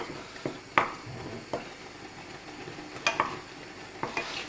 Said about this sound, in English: Okay, so the porridge is working all right. Just need to stir.